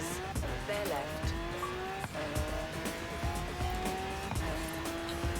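A car in Forza Horizon 3 drives toward the beach with a loud, steady engine note that climbs through gear shifts, while tires squeal and skid repeatedly across the run.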